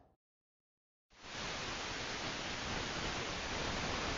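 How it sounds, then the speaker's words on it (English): Steady, dense white-noise hiss in the video game After The Curtain Call, starting abruptly after about a second of silence and holding at an even, loud level to the end. "It's just white noise."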